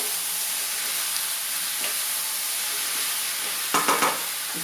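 Cauliflower with bell pepper, onion, ginger and garlic sizzles continuously in an uncovered pan, joined late by a quick run of three scraping stirs against the pan.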